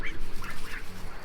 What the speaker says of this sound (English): So we've got our baby ducks in here.